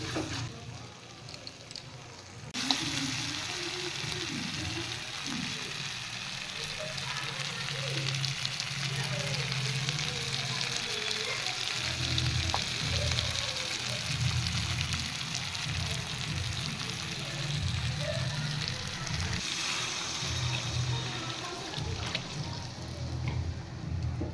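Water poured into a hot frying pan during Bengali home cooking sets off a loud burst of sizzling and bubbling hiss that keeps going steadily, close up, with occasional faint voice underneath.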